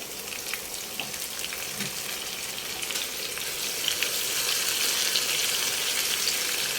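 Bean sprouts (toge) frying in a pan for tokwa't toge, a steady broadband sizzle that holds throughout and swells slightly in the second half, with no talk.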